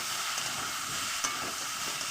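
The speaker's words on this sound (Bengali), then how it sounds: "এবার দুই আমি একসঙ্গে দিয়ে দেবো এবার এটাকেও আমি ভালো করে ভেজে দেবো" Steady sizzling of ginger and tomato frying with potatoes in a hot pan, a continuous crackle with a brief scrape of stirring partway through.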